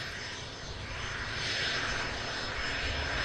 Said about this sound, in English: Aircraft coming in from Cologne. Learjet 60.